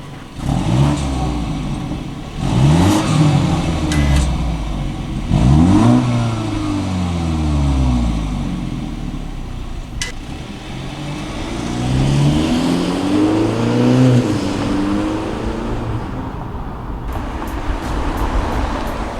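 A BMW F30 330i with an OEM 340i dual exhaust revs hard three times in Comfort mode, each rising sharply and falling back, with a throaty exhaust roar close by; the idle rumbles between revs.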